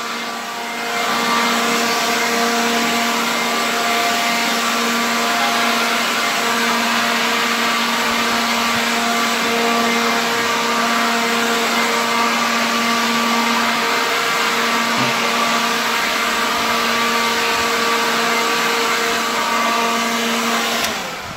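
Ryobi leaf blower blowing debris and cobwebs from indoor floors and corners, running as a loud, steady, continuous whine and rush of air from start to finish with no talking.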